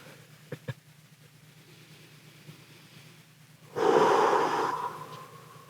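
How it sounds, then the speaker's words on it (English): Slow, deep yoga breathing into the belly, a few faint sniffs followed by one long, strong breath lasting about two seconds, heard close and alone. "breathe into the belly. Aiming for 5 to 6 seconds for each inhale and exhale."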